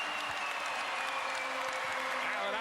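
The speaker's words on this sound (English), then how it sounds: "This crowd is electric, on fire" An arena crowd at a Celtics at 76ers basketball game roars and applauds continuously, a dense loud wash of noise under a commentator's voice.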